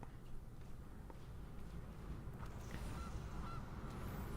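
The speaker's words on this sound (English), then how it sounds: "Opponent gets a Goose." A cartoonish goose honk sound effect from the video game Magic Arena plays faintly, with a couple of short honks over low background noise.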